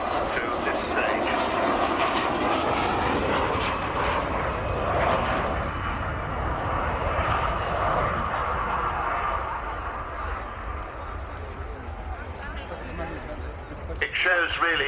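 Avro Vulcan B2 jet bomber at the Royal International Air Tattoo, a loud, continuous roar that holds steady for most of the stretch and eases slightly toward the end, with crowd voices mixed in beneath.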